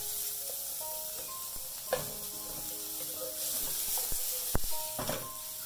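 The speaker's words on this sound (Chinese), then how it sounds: "咁样跟住我哋炒香啲料头先" Shallots, chili and garlic sizzle steadily as they are stir-fried in a hot wok, with a continuous frying hiss broken by a few sharp scrapes and knocks of the spatula against the metal.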